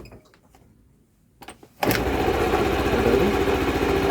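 A small moped engine cranks with a couple of brief clicks, then catches and settles straight into a loud, steady buzzing idle up close.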